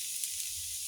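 Bottle gourd frying for sweet zarda gives a soft, steady sizzle and hiss from the pan, faint and continuous with no talking.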